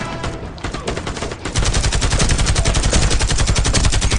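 Loud, close automatic gunfire from the online shooter Warface, with a sustained rapid burst of rounds that intensifies after a brief lighter stretch, dominating with no talk over it.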